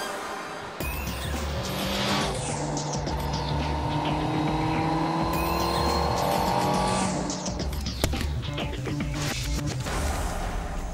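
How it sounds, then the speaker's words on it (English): A Yamaha Fazer motorcycle's four-cylinder engine revs hard and close, its whine climbing in long rising sweeps across two loud acceleration runs, with no talking. "The grunty and revvy 4-cylinder motor is more than merely usable."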